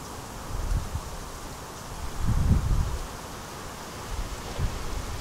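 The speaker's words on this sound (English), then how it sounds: "Speaking of wind, it's pretty windy." Gusty wind moves through leaves and brush at a wooded campsite near a stream and old blowdowns, with a steady rustle that swells into a stronger gust midway and then eases.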